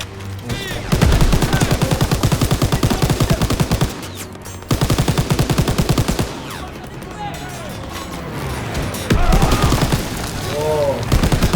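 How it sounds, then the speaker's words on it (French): Rapid bursts of machine-gun fire in Call of Duty WWII, loud repeated volleys broken by short pauses, with a voice talking between the bursts. "c'est la mitrailleuse"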